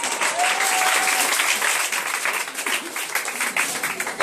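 A church congregation applauding, a dense, steady wash of many hands clapping close by that fades slightly toward the end.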